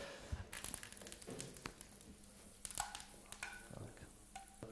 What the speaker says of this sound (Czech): Takto připraveného oleje jenom položíme ty filátka sandáta. Správně by se nám nemělo moc smažit.